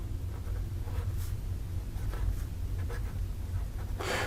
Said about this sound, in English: So here we go with the writing sample for the Sailor